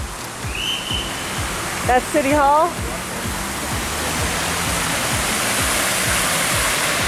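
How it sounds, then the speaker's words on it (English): A fountain splashes steadily outdoors at City Hall in Nagoya, Japan, a constant broadband wash of falling water that runs the whole time, with footsteps and a brief voice speaking over it. "But they got a snazzy fountain."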